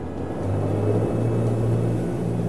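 A Yamaha outboard boat engine with DRiVE controls rises from a low idle into a stronger, steady drone as the throttle is squeezed, heard close and alone for a couple of seconds.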